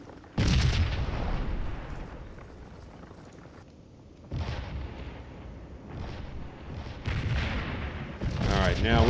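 Artillery battery fires in the Corps v. Corps strategy game: three or four heavy booming blasts arrive at irregular intervals, each rolling away into a low rumble.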